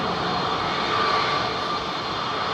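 Airbus A380 jet airliner at London Heathrow, a steady broad roar of engines heard from a distance, loud and unbroken for a few seconds with no voices.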